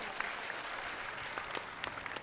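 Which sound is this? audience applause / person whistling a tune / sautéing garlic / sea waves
audience applause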